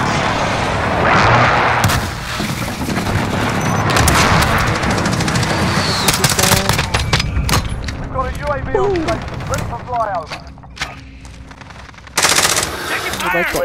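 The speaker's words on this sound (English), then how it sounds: "Enemy precision airstrike, take cover!" Precision airstrike in Modern Warfare: loud rolling explosions and booming blasts mixed with bursts of machine-gun fire, close and dense, with a voice talking over parts of the barrage.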